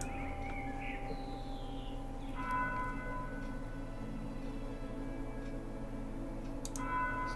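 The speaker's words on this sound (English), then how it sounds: "Distant church bell chimes the hour." A distant church bell chiming the hour in the video game The Lion's Song, soft resonant bell tones sounding faintly over a steady ambient background, with two clear strikes a few seconds apart.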